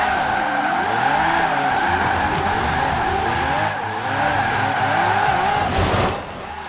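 A drifting car in Forza Horizon 4 holds a long, loud tire squeal over a steady engine drone, the screech wavering up and down for several seconds before it eases off near the end.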